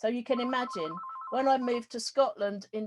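A telephone rings briefly in a rapid trilling burst between phrases while a person keeps talking indoors, the ring soft and partly under the voice.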